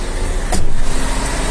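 A big Volvo FH truck arrives close by, its steady engine and road rumble filling the clip with a brief brighter whoosh partway through.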